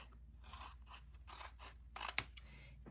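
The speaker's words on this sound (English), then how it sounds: "I'm just going to snip this off." Scissors snipping ribbon for a floral oval craft, a short close cut with a couple of crisp clicks after some soft rustling handling, heard alone at low level.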